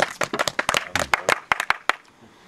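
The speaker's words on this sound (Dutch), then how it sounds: "Applaus." Scattered handclaps at an oyster festival party on Vlieland, a burst of uneven, close, sharp claps that thin out and stop after about two seconds, leaving quiet room sound.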